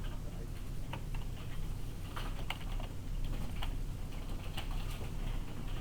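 Typing on a computer keyboard at a steady pace, with soft clicks over a constant background hum.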